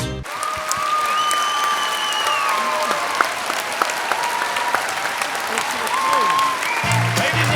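Steady audience applause fills the room at a desert bar serving Cuban and Peruvian food as a guest performer is welcomed on stage, dense and continuous throughout, with voices and a brief low musical swell near the end.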